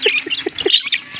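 Heritage chicken chicks chirp in a rapid run of high, close peeps, several birds overlapping and fairly loud, with no speech.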